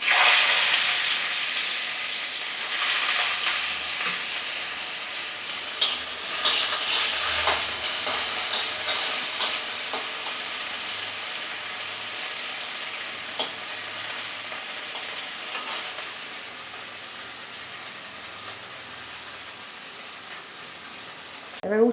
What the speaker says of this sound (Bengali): এবার উচ্ছেটা ভেজে দেব